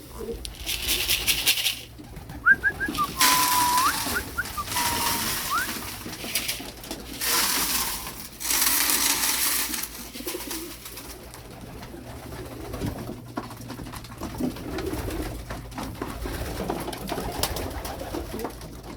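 Pigeons coo repeatedly in a loft, close and fairly loud, with bursts of wing flapping and rustling, and a steady low hum underneath throughout.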